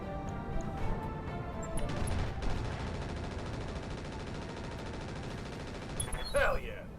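Heavy weapons fire from super heavy mechs on a city battlefield in the Roguetech mod, a dense sustained barrage of rapid booming shots and rattling bursts lasting several seconds, with a brief higher burst near the end.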